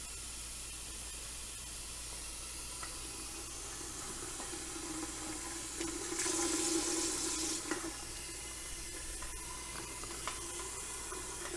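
Cold tap water pours steadily into a Royal Berkey countertop water filter, a quiet continuous rush with a brief louder splash midway and no talking.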